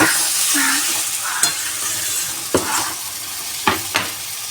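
Fish and bean curry being stirred in a pan, a winter dish of tiny kachki fish with flat beans, giving a steady close sizzle with a few sharp spoon scrapes against the pan.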